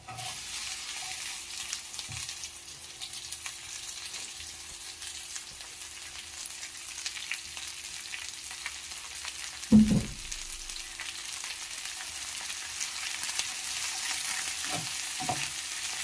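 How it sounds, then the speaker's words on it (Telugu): Chopped okra fries with dried red chillies in a pan, giving a steady, even hiss of sizzling oil throughout, with a few soft knocks of a spoon against the pan and no voices. "చిన్న చిన్న ముక్కలుగా కట్ చేసుకున్నటువంటి ఈ బెండకాయలను ఇందులోకే వేసుకోవాలి."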